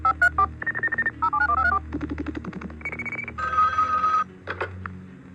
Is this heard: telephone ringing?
yes